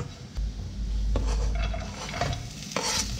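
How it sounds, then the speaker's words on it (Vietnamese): Shrimp with carrot and white radish is stir-fried in a pan, a close scraping, stirring rustle over a low sizzle with a few sharp utensil knocks against the pan, no talking. "Rồi các bạn đảo cho tôm mình nó dậy cái mùi thơm lên."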